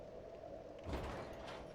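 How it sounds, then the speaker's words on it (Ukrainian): A door opening in Dark Souls 3, heard as a low, rumbling mechanical slide that swells midway and lingers, moderately loud beneath steady in-game ambience. "Відкрили закриті двері."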